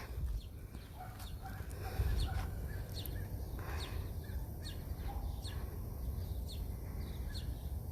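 A live bird held in the back of a kill truck gives repeated short, high chirps over a steady low rumble, the calls scattered irregularly and fairly close.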